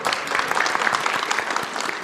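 A crowd at a live PAX East panel on the Nintendo DS gives loud, sustained applause, with dense clapping throughout and no talk.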